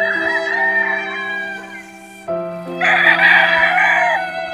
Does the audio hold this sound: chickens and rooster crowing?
yes